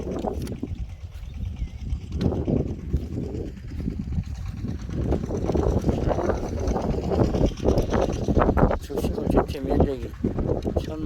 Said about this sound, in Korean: 어, 바람.